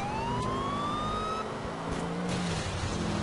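A police car siren in the video game GTA IV wails as a loud, sustained rising tone that cuts off partway through, with steady engine and traffic noise running underneath.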